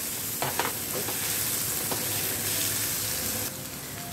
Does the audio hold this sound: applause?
no